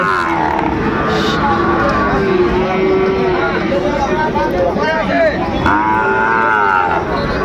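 Cattle at a livestock market in Dinajpur, where Sahiwal bull calves are traded, moo loudly and repeatedly close by over a steady crowd hubbub, with people talking throughout.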